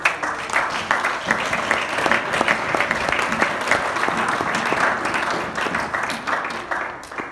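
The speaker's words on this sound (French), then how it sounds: "Acclamons très fort le Seigneur." Church congregation applauding loudly and steadily throughout, a dense wash of many hands clapping at a worship service, with faint voices mixed in beneath.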